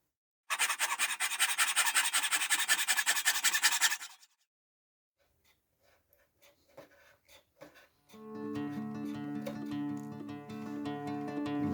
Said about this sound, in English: make some saw cuts down to here and chisel and then use the spoke shave to carve out this inner curve